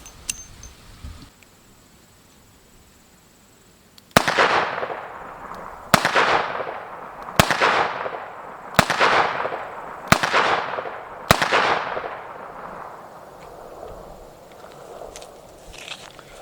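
Six sharp, loud gunshots from a Chiappa Rhino .357 revolver, fired alone at a steady pace about one to one and a half seconds apart. Each shot carries a long ringing decay, with quiet ambience before the first.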